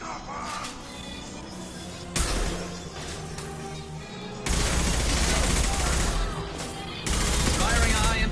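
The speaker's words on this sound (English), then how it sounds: "Firing a high-impact shot." Heavy gunfire in Mass Effect 2 comes as loud, dense bursts of shots and crashing impacts in several abrupt, sustained waves, with game voices mixed in.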